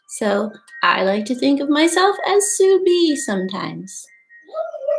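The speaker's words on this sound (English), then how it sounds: "You might hear my dog singing a song in the background." A person talks steadily while a dog's drawn-out howling rises in the background and continues briefly on its own at the end.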